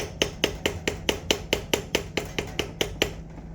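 A metal pick taps and scrapes around a clutch-side part of a Yamaha YZ250F motorcycle engine, a steady series of about a dozen sharp metallic clicks at an even pace, close and clear, with no talking.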